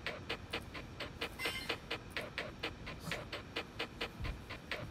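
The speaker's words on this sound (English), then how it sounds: "we have a dog named Melvin" A pet dog pants close by in quick, even bursts, roughly four breaths a second, soft and steady with faint room noise and no talking.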